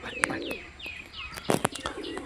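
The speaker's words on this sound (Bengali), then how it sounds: "এটা হলো বার্লেস পায়রা" Barless breed pigeons coo in soft repeated phrases nearby, a few brief higher chirps and a short sharper burst around midway, with no talking.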